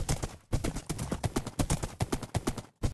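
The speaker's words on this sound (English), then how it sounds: "Got some saddle and a very fast horse" Hooves of a very fast saddled horse galloping in a survival crafting video game, a quick, regular clip-clop rhythm drumming loudly and continuously, with a brief pause near the start.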